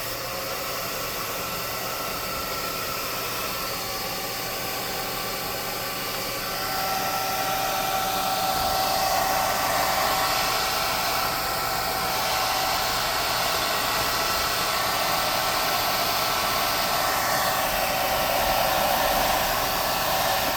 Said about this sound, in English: I can hit them lightly with the low setting on the air gun, just to get that paint mostly dry